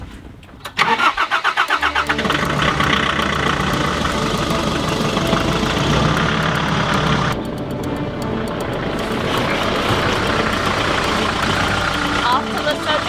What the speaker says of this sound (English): Also, I'm driving a standard, and it's on the wrong side of the road as well.